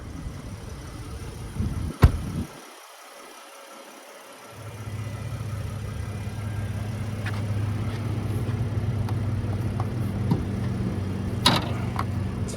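A 3.8-liter naturally aspirated V6 in a 2023 Nissan Frontier idles with a steady low hum after a sharp clunk and a brief muffled moment, then runs on evenly at close range.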